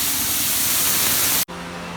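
A spray gun hisses gel coat onto a fiberglass part in a fiberglass shop, a loud, steady spray that cuts off abruptly near the end, leaving a low mechanical hum.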